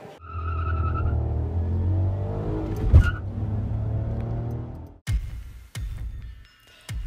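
A Fiat Mobi accelerates hard on a test track, its engine climbing through rising revs with a gear change midway, then easing off into short bursts and fading passes.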